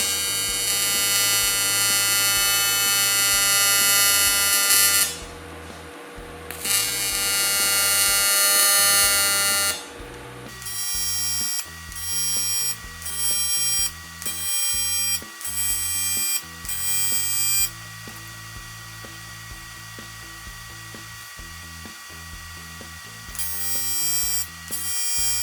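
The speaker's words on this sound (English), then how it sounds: "I'm using clamps to hold the parts tightly together for tack welding." Steel form sections clamped tightly in a vise are tack welded, giving a series of short electric buzzing bursts separated by brief pauses over a low steady hum, close and fairly loud.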